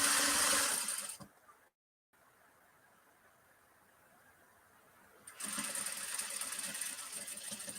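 A sewing machine stitches a neckline into fabric, buzzing loudly for about a second, then pausing. It restarts and runs steadily to the end at a slightly lower level.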